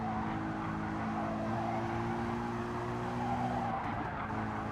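A race car in a racing video game skids with a sustained tire squeal over a droning engine, steady and close throughout without a break.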